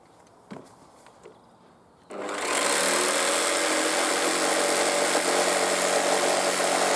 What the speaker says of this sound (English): I'll use the jigsaw again, so we'll clamp it down nice and securely.